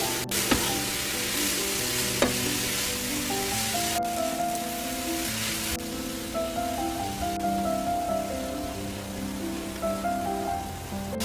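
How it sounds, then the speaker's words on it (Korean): Cabbage and carrot stir-fried in a pan with soy sauce and salt give a steady, close sizzle with stirring scrapes throughout, over faint tonal background music and no talk. "간장이 끓어오르기 시작하면 소금 4분의 1스푼을 넣고 함께 볶아주세요."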